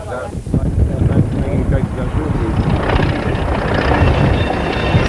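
Train running in remote Central Otago countryside, a rumbling rolling noise with heavy wind buffeting the microphone, loud and continuous, with faint voices underneath.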